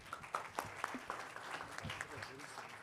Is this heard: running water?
no